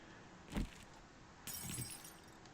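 Glass smashing in the 7 Days to Die video game, two separate shattering bursts about a second apart, each with a sharp crack and a brief trailing tinkle of fragments, clear and fairly close.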